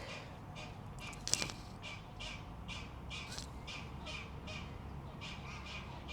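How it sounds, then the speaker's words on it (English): Repeated squawking duck calls at a steady rhythm, somewhat distant, over a constant low background rumble at a flea market. "you can hear the ducks"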